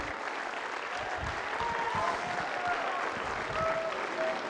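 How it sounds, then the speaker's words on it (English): An indoor audience gives a steady wash of applause that holds at an even level for several seconds, with faint voices mixed in. "Go ahead, you can applaud my pain."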